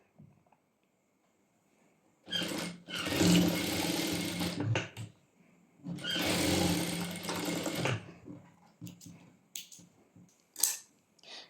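Near and clear, a sewing machine stitches pant pieces together in two long runs of whirring, each lasting about two seconds, then short bursts with quiet gaps between them.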